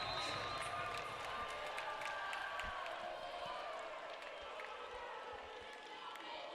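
A women's college volleyball crowd of UCLA and UC Davis fans on its feet at match point, a broad sustained roar of cheering and clapping with scattered whoops, steady and full throughout.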